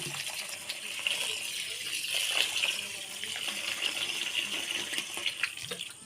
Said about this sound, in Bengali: চালটা ধুয়ে নেব